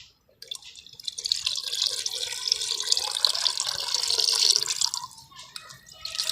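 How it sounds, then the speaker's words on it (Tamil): Liquid plant pest-control solution poured into a bucket holding about five litres of water, a steady close splashing trickle that swells and runs continuously for several seconds before tapering, with no talking. "நான் அஞ்சு லிட்டர் தண்ணி எடுத்து வச்சுருந்தேன் இல்லைங்களா ஒரு பக்கெட்டில் அதில் நான் ஊற்றுறேன்"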